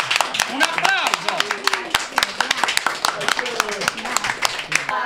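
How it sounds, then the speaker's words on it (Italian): Clapping breaks out at a 107th birthday celebration for Maddalena Grasso, sharp irregular claps mixed with voices and chatter, close and lively through the whole stretch. "Qua ci vuole un applauso."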